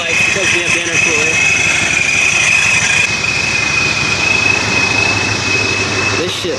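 Supercharged New Edge Ford Mustang GT with a Vortech V1 Ti-Trim, running slightly rich: a loud, constant rumbling idle with a steady high supercharger whine, heard from inside with people talking over it.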